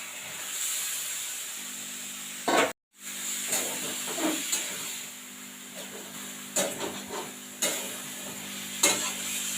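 Boiled vegetables and banana flower cook in a pan with fried spices and tomato, giving a hissing sizzle and steam. Close stirring scrapes cut in repeatedly, with a brief silent gap near the start and no talk.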